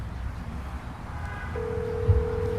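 A telephone ringing on a call to a restaurant: one steady ring tone begins midway and holds to the end, over a low background hum with no talk.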